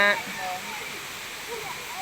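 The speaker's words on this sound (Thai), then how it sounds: "น้ำตกคลองลานค่ะ" Khlong Lan waterfall in Thailand gives a steady, broadband rush of falling water, continuous and fairly loud throughout, with no talk over it.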